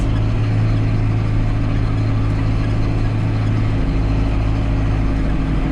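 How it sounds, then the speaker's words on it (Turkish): Valtra A85 tractor engine labouring under load while pulling a subsoiler through a field, a loud, steady low drone with a constant hum, close up and continuous, no voices. "motoru zaten başlıyor hemen zorlanmaya"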